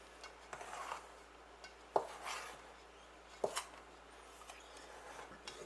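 A spoon mixes egg into a flour mixture in a bowl for cinnamon scroll biscuits, giving soft rubbing scrapes and a few sharp knocks of the spoon against the bowl, quiet and close.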